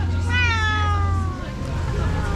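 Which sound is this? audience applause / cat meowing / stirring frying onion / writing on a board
cat meowing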